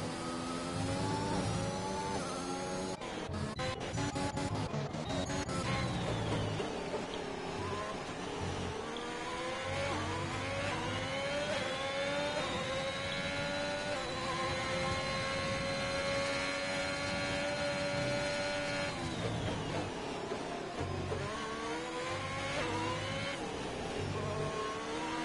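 Formula 1 car engines in the F1 2021 racing game on PS5 at the Emilia-Romagna Grand Prix scream steadily, with rising and falling revs as gears shift, dense and continuous throughout.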